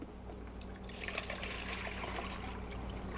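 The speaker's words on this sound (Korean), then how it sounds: "제품을 들었던 컵 그대로 해서 물을 2컵을 넣으시면" Water poured from a cup into a bowl of carp fishing bait mix of fish meal and barley, a steady close trickling splash running for the whole clip without a break.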